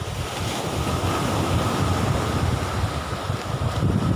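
Strong sea waves crashing and rushing continuously onto Nong Bua beach, mixed with heavy gusting wind buffeting the microphone, loud and unbroken with no voices.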